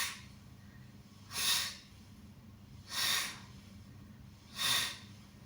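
Three sharp, forceful exhalations during a Pilates back exercise, evenly spaced about a second and a half apart, each a breathy hiss close to the microphone over a quiet room.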